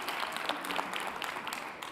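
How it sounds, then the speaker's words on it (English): Brief ripple of audience applause at a League of Women Voters conference panel, fairly faint and steady clapping from a seated crowd for about two seconds with no voices over it. "Yes, that deserves an applause."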